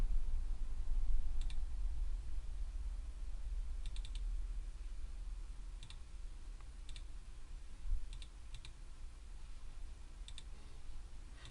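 Sparse, quiet clicks of a computer mouse in CAD software, single and double clicks spaced a second or two apart over a low steady hum.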